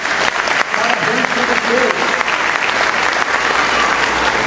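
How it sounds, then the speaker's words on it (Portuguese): Church congregation applauding volunteers with loud, dense, continuous applause filling the whole stretch, while a voice speaks briefly over it. "Eu quero aplaudir a vocês."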